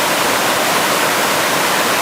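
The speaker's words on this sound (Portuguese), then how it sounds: "Cachoeira do Diabo. Olha aqui, maravilhosa." Steady roar of the Cachoeira do Diabo waterfall at Gavião Peixoto, a loud, continuous broadband rush of falling water with no breaks or voices.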